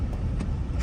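Los Angeles traffic rumbles around a Land Rover Defender heard from inside the cabin, a low steady engine and road drone with a brief whoosh of a passing vehicle.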